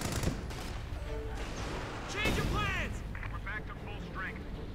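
Artillery fire and grenade blasts in the real-time strategy game Company of Heroes 2, with repeated booms and crackling gunfire in a busy battle mix, plus short high-pitched whistling effects.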